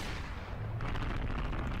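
Gunfire from the Skibidi Toilet animation, a dense, rumbling burst of shots and booms that thickens halfway through, sounding continuous and fairly quiet overall.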